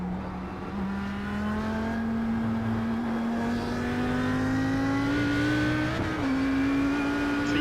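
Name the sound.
race car engine driving in iRacing video game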